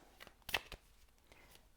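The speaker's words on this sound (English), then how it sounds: "Actually, I'm going to shuffle these this way." Tarot cards being shuffled by hand, a few quiet, brief riffling flutters and taps spread unevenly across a short moment, close but faint.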